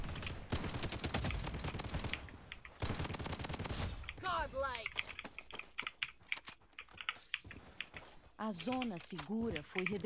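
Rapid bursts of gunfire from the shooter game Blood Strike rattle in several dense volleys, mixed with keyboard clatter and someone talking over the action.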